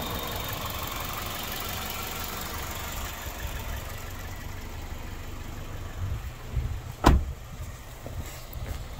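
A 2003 Toyota Corolla Matrix XR all-wheel-drive wagon idles with a steady low engine rumble, moderately loud and close, with a brief louder thump or clunk near the end and no talking.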